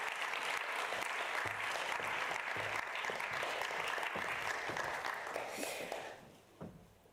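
A conference audience applauds as speakers join the stage at an energy digitalisation event, a dense steady clapping that fills the room, then tapers off sharply near the end.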